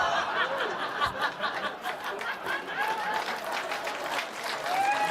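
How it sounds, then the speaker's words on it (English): A comedy-club audience applauding, a steady wash of clapping mixed with scattered chuckles and laughter. "everybody's applauding"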